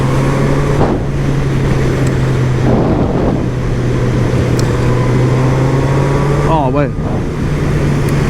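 A 2023 Honda CB1000R motorcycle engine with stock exhaust drones steadily while riding, mixed with heavy wind rush on the microphone and a brief rising rev near the end.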